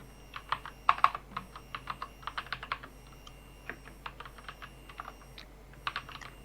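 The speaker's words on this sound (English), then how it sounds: "Hit enter and type hello world." Soft, close clicks of typing on a computer keyboard come in short bursts with pauses, fairly quiet and alone.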